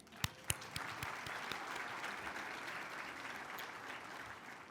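An audience at the 2023 LULAC National Convention gives a round of applause, a steady wash of clapping at a fairly distant, quiet level, with a few sharper individual claps near the start.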